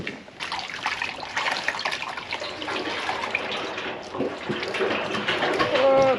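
Used engine oil pours from a Ram 3500 6.7 Cumminsin a driveway, a continuous splashing, gurgling stream with bubbling toward the end.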